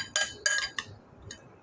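A utensil stirs steamed fish in black bean sauce in a pan, giving four bright metallic clinks against the pan in quick uneven succession, close but fairly soft, over a quiet background.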